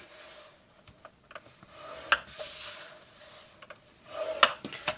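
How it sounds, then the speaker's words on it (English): Cardstock being scored on all four sides for a box lid, quiet rubbing and scraping strokes with a few sharp clicks, close and soft, no talking. "I'm going to score it at 1 on all 4 sides with the box shim"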